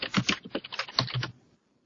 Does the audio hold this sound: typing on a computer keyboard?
yes